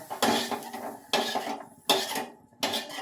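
Ivy gourd being roasted in a pan for chutney, with a utensil scraping and clattering against the metal in four loud, close bursts separated by short quieter gaps.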